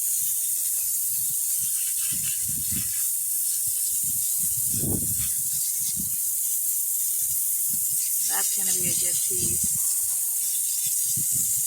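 A constant hiss of a spray nozzle blasting water onto rocks such as agate and druzy quartz, with clicks and knocks of stones being handled and someone speaking briefly.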